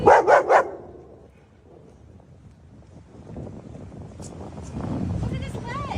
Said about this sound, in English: And look at these dogs.